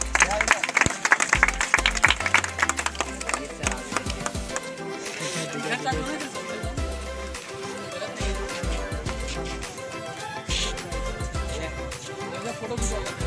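Applause and clapping from a crowd at an army running race prize ceremony, loud and sustained across the whole stretch, with voices mixed into the crowd noise.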